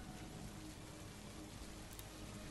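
Heavy rain with wind pours steadily and loudly throughout, a dense unbroken hiss with no pauses and no voices.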